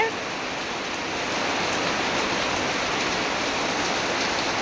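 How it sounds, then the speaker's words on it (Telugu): Heavy rain pouring down steadily outdoors, a dense continuous hiss that swells slightly louder after the first second, with no clear voices. "ఇదిగోండి మామూలు వర్షం కాదు బీభత్సంగా కొడుతుంది"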